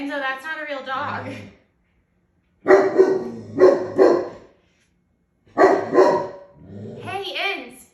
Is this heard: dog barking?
yes